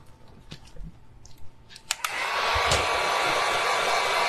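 A hair dryer switches on abruptly and blows steadily at close range to dry an acrylic gingerbread house painting on glass before resin is poured, preceded by a few light clicks and handling sounds.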